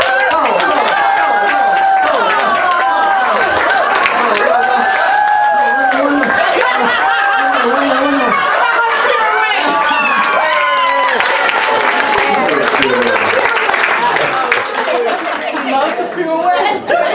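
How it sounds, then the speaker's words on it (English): A live audience cheers, whoops and claps for a Yorkshire terrier performing a trick, a dense, continuous roar of excited voices and applause that stays loud throughout, easing slightly near the end. "Now cheer her on"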